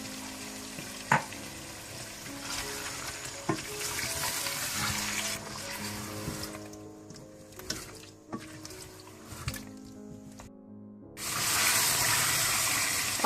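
Yogurt and kewra water fry and get stirred in a pan for biryani: steady sizzling broken by clattering spoon knocks and scrapes, with a louder hissing surge at the end.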